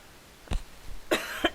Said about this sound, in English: I'm sorry that I'm coughing.